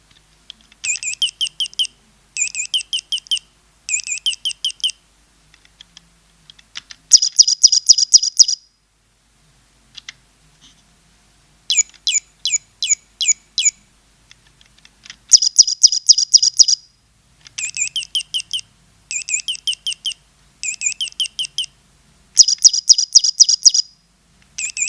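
Chirping bird toy playing its electronic bird song: bursts of rapid high tweets in repeated phrases separated by short pauses, loud and close, with no talking.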